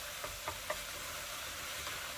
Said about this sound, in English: I'm just going to continue cooking and browning the ground beef